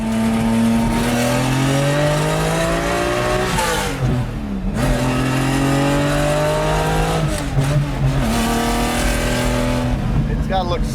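A 1969 Lamborghini Miura, the mid-engine Bertone-bodied V12 supercar, driven on the road: the engine revs up and down through several gear changes, loud and close throughout, with people talking over it.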